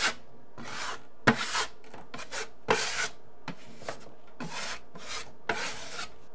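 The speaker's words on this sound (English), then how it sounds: "I'll show how these screw holes get filled." Screw holes in wood being filled and worked during a stairwell storage renovation, a series of about a dozen short scraping rubs at irregular intervals, close and moderately loud, with no talking.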